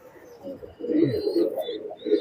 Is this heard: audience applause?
no